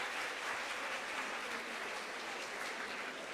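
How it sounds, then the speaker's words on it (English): An audience at a keynote address claps together in a sustained, even burst of applause that fills the room at moderate volume, with no one talking over it. "Can we clap for ourselves for being very honest?"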